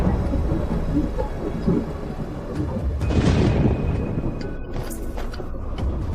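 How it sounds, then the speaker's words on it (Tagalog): Heavy rain pouring down in a steady dense hiss, with a deep rumble of thunder swelling in the middle, loud and close throughout. "Umulan na malakas."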